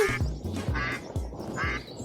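Cartoon ducks quack in a quick rhythmic series of about five nasal calls, close and clear, with no speech over them.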